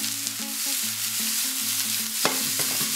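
Mushrooms sizzle in a pan heated to maximum for a rapana dish in creamy cheese sauce, a steady frying hiss with occasional stirring clicks and a louder scrape near the end.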